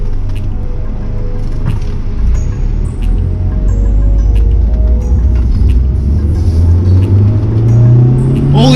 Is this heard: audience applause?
no